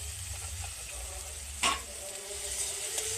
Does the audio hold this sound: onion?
yes